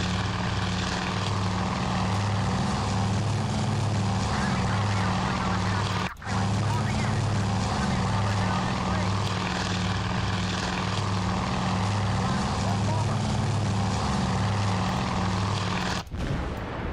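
Armoured US warplanes fly in the naval combat game Task Force Admiral, a loud, steady, droning propeller-engine roar that holds without a break throughout.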